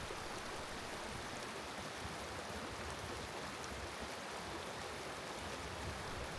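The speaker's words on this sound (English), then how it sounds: "I do very much enjoy the sound of water flowing downstream" A modest brook flowing beneath a footbridge on a Yellowstone trail near pine trees, a steady, dense rushing of water, close and continuous with no breaks or voices.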